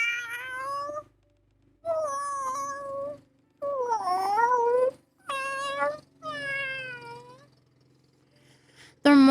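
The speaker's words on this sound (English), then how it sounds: "all the cats sit down and cry in unison." Several cats in a video game meow in long, mournful wails, one drawn-out cry after another with short pauses between, ending on a sudden loud meow.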